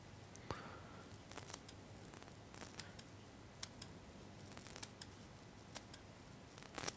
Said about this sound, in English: normally I like to take it off and then start trimming. The big scissors,